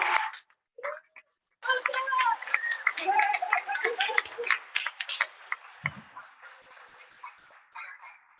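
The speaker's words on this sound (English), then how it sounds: "Let's give a round of applause to Shayla Jones." A small group at a youth leadership reception gives sparse, uneven clapping for a ceramics program leader, the claps close and distinct, with voices and a few scattered noises mixed in as it tapers off.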